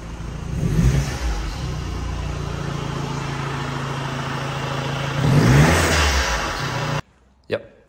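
VW T6 van fitted with a RamAir ProRam intake kit revs its engine twice, each rise bringing a loud whooshing intake rush over a steady idle, with the engine cut off near the end.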